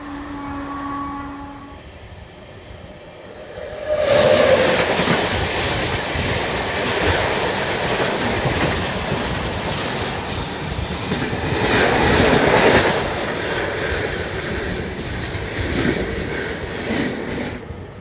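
Maharashtra Express, an LHB-rake passenger train, runs into Gondia Junction on its first LHB run. A steady broadband rumble of wheels on rail swells louder around the middle with clattering passes, and no one speaks.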